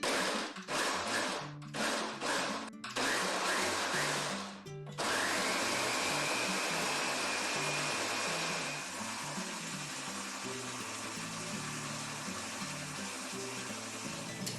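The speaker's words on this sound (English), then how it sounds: "So now let's blend this baby up and see where we're at. I'm going to start by just kind of pulsing it." A kitchen blender whirs in several short, loud pulses through tomatillo salsa verde, then runs continuously at a steady roar, close by with no voices.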